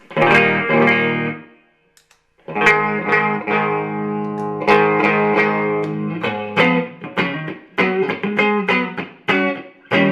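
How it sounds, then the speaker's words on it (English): Electric guitar through a TC Electronic Nova System clean boost rings out chords with a slightly pushed, mildly gritty tone, pausing briefly before more strummed chords and picked notes follow. "So here's the amp again clean. And here's that little bit of boost."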